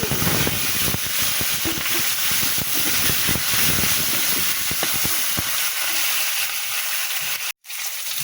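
Potatoes sizzling in hot oil with cumin and black cumin seeds, a loud steady broadband frying hiss with crackles and scraping stirs, cutting to near silence for a moment near the end.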